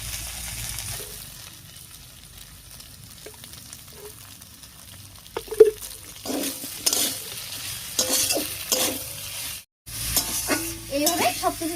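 Potato and pointed gourd sautéed with spice paste and a spoonful of ghee in a pan, soft sizzling under scraping stirs, with sharper utensil clinks and scrapes picking up in the second half.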